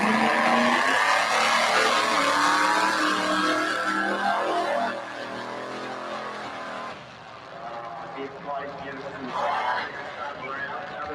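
A street-legal drag race car with twin brakes, the Mullet machine, roars loudly down the strip on a wheelie run, its engine tone sweeping and fading as it pulls away, with voices talking over it.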